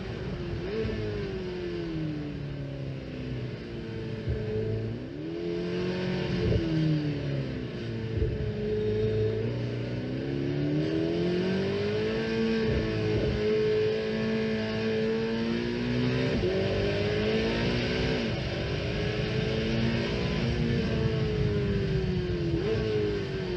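Twin-turbo Corvette ZR1 with 1,664 horsepower lapping a tight race track, its engine droning steadily and rising and falling in pitch as it accelerates and lifts through corners, loud and continuous with no talk.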